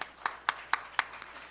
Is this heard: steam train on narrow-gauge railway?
no